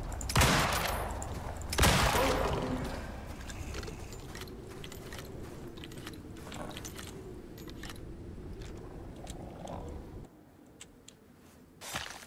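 Gunfire in the video game Icarus comes as two loud, booming shots early on, followed by a steady rumbling ambience and a few faint clicks and thuds before a quieter tail.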